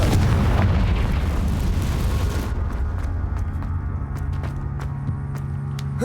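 A Confringo spell blast in Hogwarts Legacy erupts as a loud, heavy explosion with a rumbling boom that tails off into crackling debris and scattered sharp pops over several seconds.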